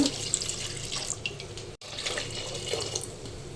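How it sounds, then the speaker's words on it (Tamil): Water pours steadily into a cooking pot holding chillies, turmeric and salt, with a continuous splashing rush, briefly interrupted for an instant before flowing on. "தண்ணி ஊற்றிக்கலாம் அதில்"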